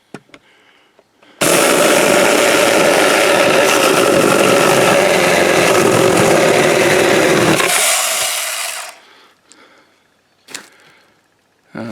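A chainsaw roars into wood, cutting 12 inches down, for about six seconds at a constant high pitch, then drops and winds down, followed by faint clatter.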